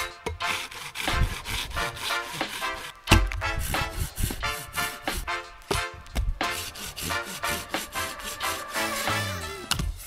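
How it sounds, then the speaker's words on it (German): A handsaw cuts through a log outdoors in a bushcraft setting, the blade rasping in steady back-and-forth strokes, loud and close, with a brief pause before the rhythmic sawing resumes. "Ich nehme einfach den hier mal dafür und den säge ich jetzt viermal durch"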